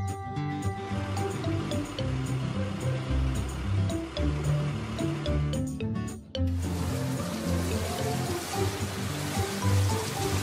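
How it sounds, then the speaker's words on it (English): In a cartoon, water gushes steadily over toy cars to rinse the sand off, a rushing, splashing flow that plays along with music and swells louder partway through. "We also need to wash the toys so they don't have sand on them."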